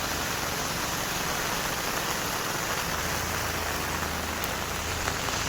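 Sudden heavy monsoon rain pours down in a Konkan village, a dense, loud, unbroken hiss of drops striking surfaces close all around.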